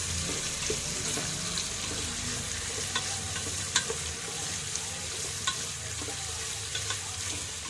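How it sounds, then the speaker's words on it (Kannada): Onions frying in a pan for pulao give a steady, close sizzle throughout, with light scraping and clinks from stirring. "ಈರುಳ್ಳಿ ಚೆನ್ನಾಗಿ ಫ್ರೈ ಆಗಬೇಕು."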